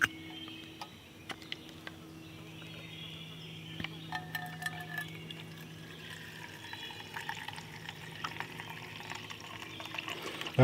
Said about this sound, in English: to fill the spirit burner